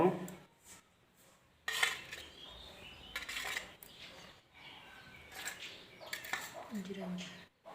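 Chicken pakora marinade gets stirred in a bowl, with intermittent soft clinks and scrapes of a spoon against the dish separated by quiet gaps.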